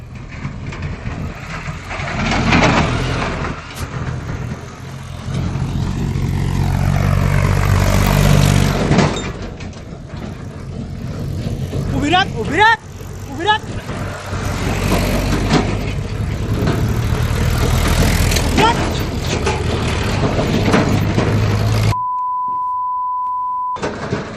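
A tractor engine rumbles and revs loudly while being driven through tidal floodwater in Ghogha village, Bhavnagar, with clanking and shouting-like noise over it, then cuts to a steady electronic tone near the end.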